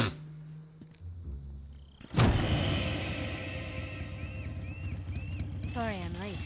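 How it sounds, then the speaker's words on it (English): A vehicle engine idles in Metal Gear Solid 3. A clunk is followed by a steady rumbling drone, with a faint hum before it and warbling tones near the end. "Cut the engine."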